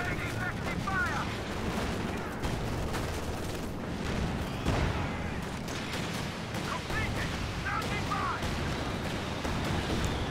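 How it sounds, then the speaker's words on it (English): Land Mattress rocket artillery volleys in Company of Heroes 2 battle, dense rumbling bursts of launches and explosions continuing throughout amid other gunfire and battlefield din. "More land mattress shots."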